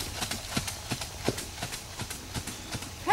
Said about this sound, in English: So let's pick up that trot and then pick up your 2 point.